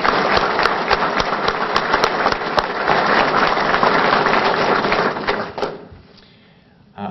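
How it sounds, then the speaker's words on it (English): Audience applause for the sheriff at a press event held by the governor in Tampa after Hurricane Irma, a loud crowd clapping that carries on for several seconds, then tapers off and fades into quiet near the end. "so let's give a big round of applause."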